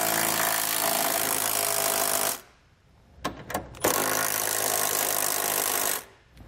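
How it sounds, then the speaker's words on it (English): A power tool tightens trailer hitch bolts with a 19mm socket during a Curt receiver install on a 2017 Toyota Highlander, a loud continuous buzzing whir for about two seconds, then short bursts and another long run, close by. "we can go back and tighten it down using a 19mm socket."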